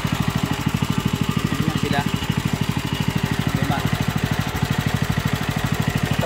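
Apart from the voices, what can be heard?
engine warming up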